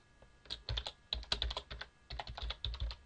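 Bursts of close keystrokes on a computer keyboard as a first name is typed, uneven clusters of quick clicks separated by short pauses, with no talking.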